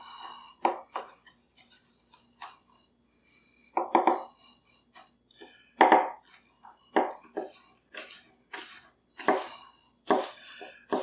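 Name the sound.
Paudin VG10 Damascus chef knife dicing an onion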